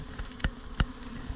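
A low, steady buzzing of honey bees in an open hive fills the air, with a few sharp knocks and taps close by from a hive tool.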